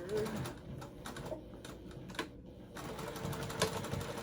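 Home sewing machine stitching down a section of fabric in a sewing room, a soft steady motor hum with faint rapid needle clatter, low in level and briefly pausing.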